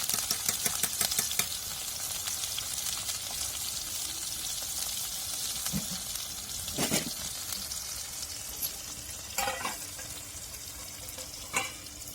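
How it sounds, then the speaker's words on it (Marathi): Garlic sizzling and frying in hot oil in a home kitchen, a steady close crackle with a few sharper stirring clatters and scrapes breaking through. "तेल पण चांगलं तापलं आणि एक नंबर आपल्याला लसूण टाकायचा आहे लसूण लाल होऊन द्यायचा"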